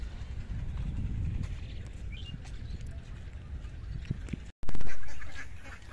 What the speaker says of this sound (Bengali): এই যে হাঁসগুলো মাঠের থেকে মাছ শামুক খেয়ে খেয়ে মোটা তাজা হয়ে আসলো, দেখতে পাচ্ছেন।